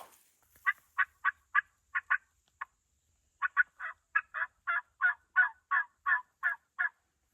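A run of loud, rapid gobbling calls in two bursts, with a brief pause between them, from wild turkey toms fairly close by at their roost in spring, in otherwise quiet surroundings.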